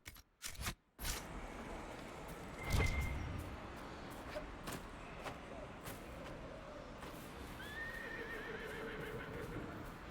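In the video game Dragon Age Inquisition, a horse neighs clearly and hooves clip-clop, set among game ambience with a few sharp clicks at the start and a whinny near the end.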